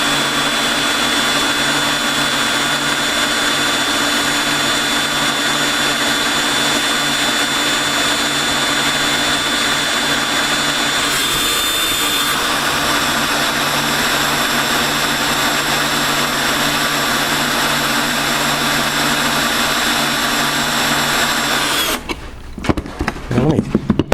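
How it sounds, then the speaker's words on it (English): Drill with a countersink bit cutting into a wooden board around a broken screw, giving a loud, steady whine that runs almost unbroken and then stops abruptly near the end. "our countersink is cutting the wood away from around the screw"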